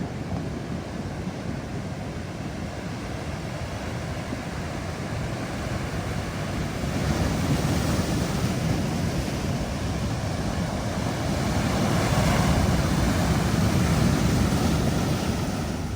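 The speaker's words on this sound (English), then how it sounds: "those waves roll up on the beach and you hear those boulders" Ocean waves roll boulders on a beach near Ensenada, Baja California, a continuous loud rumbling wash that grows stronger partway through, with no voices.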